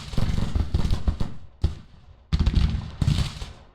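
Civil War regiments firing muskets in Grand Tactician: The Civil War, ragged crackling volleys in several bursts with short pauses between, heavy and close, no talking.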